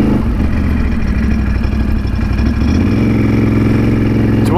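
A Can-Am Outlander XMR 850 ATV engine runs loud and close, a steady lumpy idle with a clattering pulse that rises into a slightly higher-pitched rev near the end.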